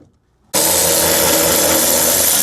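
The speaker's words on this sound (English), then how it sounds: "So let's start removing 2 of these bolts, or sorry, nuts" A power tool kicks on abruptly after a brief silence and runs loud and steady, removing nuts on a Dodge to fit a strut bar in a K-swap project, a close, harsh whirring with no talk.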